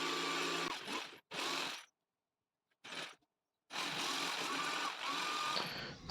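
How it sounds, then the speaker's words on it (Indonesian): An electric jigsaw cuts along the edge of a plywood Quran stand in several bursts of buzzing, stopping and restarting with silent gaps between, close and moderately loud, with a longer run at the end. "Kita akan menggunakan mesin jigsaw ya untuk kita sedikit belah di bagian area tepi seperti ini"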